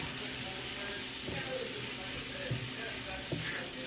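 Salt, turmeric, cumin, chili and coriander powders are stirred into a frying mixture in a pan for a spicy bombay duck curry, giving a steady sizzle under scraping stirs with a few louder knocks.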